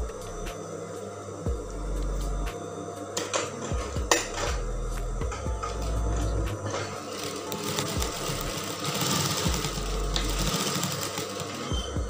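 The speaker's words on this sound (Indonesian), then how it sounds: "Kita jahit berulang kali supaya tidak lepas." A sewing machine runs in bursts, stitching back and forth over fabric while a half-circle skirt is being made, with an elastic waistband. Its motor hums in stop-start runs, with clicks and clatter between the passes.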